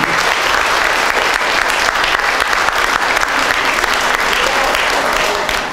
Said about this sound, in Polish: wielkie brawa jeszcze raz dla solenizantki